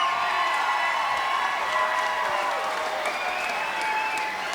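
An arena crowd at a SteelFist cage fighting event applauds and cheers for two fighters, a dense, steady wall of clapping and shouts that holds loud and unbroken throughout.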